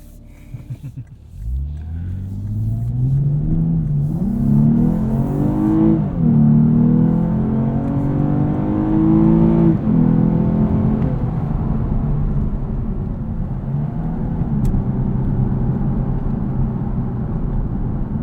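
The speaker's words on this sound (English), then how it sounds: "Bump it up to Sport Plus here. Get a little acceleration out of this." A 2023 Lexus IS 350 F Sport AWD in Sport Plus mode accelerates hard, its engine note climbing steadily through rising harmonics, with a brief dip at a gear change before pulling again, loud and continuous under a low road rumble.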